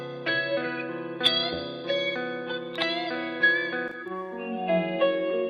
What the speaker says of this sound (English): And a reverb.